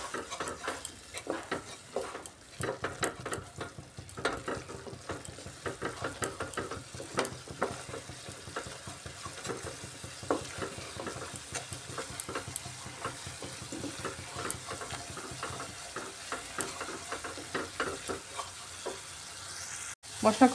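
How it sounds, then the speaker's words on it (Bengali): Spice paste with Kashmiri red chili powder cooks down in a pan for a ridge gourd egg curry, with a low continuous sizzle under repeated close clinks and scrapes of a spoon stirring throughout. "এবার মশলাটাকে ভালো করে কষিয়ে নেব।"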